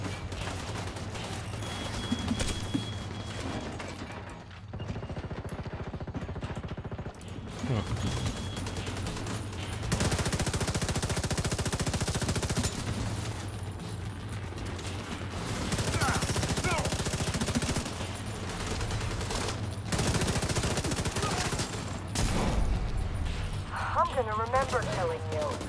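Gunfire in The Division 2 as a player shoots at a small target: rapid automatic bursts rattle in repeated volleys with short pauses, loud and close over a low mechanical hum.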